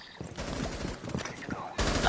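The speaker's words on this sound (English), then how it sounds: "keep them down with suppressing fire" Bursts of suppressing gunfire in the video game Rainbow Six Siege crackle in a rapid, uneven stream of shots for about two seconds, fairly quiet and mixed with game noise.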